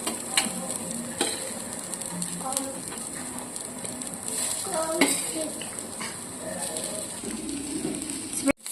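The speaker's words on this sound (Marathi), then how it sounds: "स्वीटकॉर्न घातल्यानंतर आपण आता हे मिक्स करून घेऊया" Sweet corn and onions sizzle in a pan while a spoon scrapes and clinks steadily against the metal, giving a continuous frying hiss with irregular stirring knocks close to the microphone.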